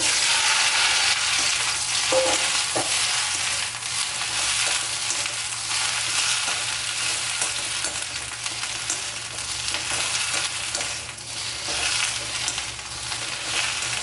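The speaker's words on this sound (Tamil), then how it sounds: "இப்போ வெண்டிக்காயை வதக்கிடலாம்" Okra sautéing in a pan for Chettinad tamarind curry, a constant loud hissing sizzle close by with occasional faint stirring knocks, no talking over it.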